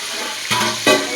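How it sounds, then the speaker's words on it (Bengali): Eggs fry in a pan for a dinner of biryani and salad, a steady close sizzle that crackles louder in two short bursts. "ডিম ফ্রাই হচ্ছে"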